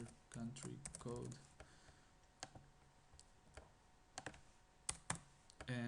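Computer keyboard typing close up, two quick flurries of keystrokes followed by sparse single clicks and taps, with faint background hiss and no talking.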